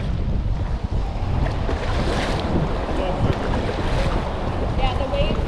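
Steady wind and waves roar under a bridge in Florida, a dense and constant wash of water and gusting wind across the microphone.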